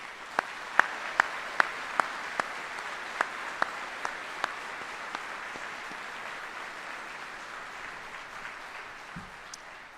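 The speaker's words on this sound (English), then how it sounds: "please join me in a round of applause for the families of our retirees" Applause for the families of retirees at an Army retirement ceremony: a few distinct, sharp claps ring out in a spaced rhythm early on over a faint, soft patter, then trail off into quiet.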